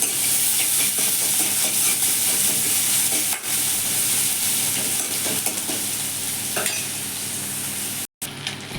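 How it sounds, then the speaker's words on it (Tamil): Chopped onion sautéing in oil in a kadai, a loud steady sizzle with intermittent stirring scrapes, cutting off abruptly for a moment near the end before resuming, no voices. "ஒரு வெங்காயம் கட் பண்ணி போட்டு நைஸாக எண்ணெயில் வதக்கிடணும்"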